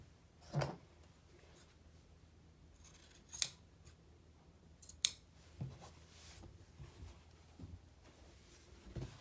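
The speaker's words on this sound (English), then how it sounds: "Now I'm going to trim the excess that's on the sides there and trim bulk from the corners" Scissors snip away excess fabric along the sides and corners of a pom pom binding with a facing, a few sharp, close cuts scattered through a quiet room.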